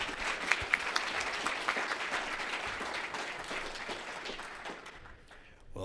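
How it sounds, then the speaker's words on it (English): Audience applause at a conference fills the room, a dense, steady clapping that holds for several seconds before thinning out toward the end. "let's give a round of applause for Citizen Hush."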